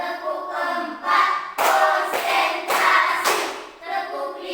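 Children clapping in unison to a classroom clapping chant, crisp groups of claps in a counted rhythm interleaved with chanted voices, close and fairly loud.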